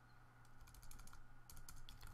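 Quick taps on a computer keyboard while entering code, two short bursts of clicky keystrokes, faint over a steady background hum.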